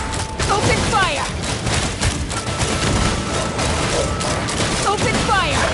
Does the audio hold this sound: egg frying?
no